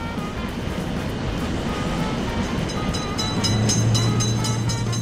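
A train approaches in an Indian train simulator game, a steady loud rumble that swells slightly toward the end.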